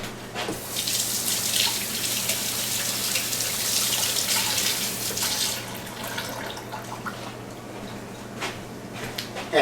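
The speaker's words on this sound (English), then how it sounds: "Wash my spoon, it's still got egg on it." A spoon with egg on it rinsed under a running kitchen tap, steady splashing water filling the whole stretch, close and fairly loud, the flow shifting a little partway through.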